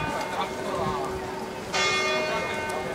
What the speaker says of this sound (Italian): Suonano le campane a Cadice.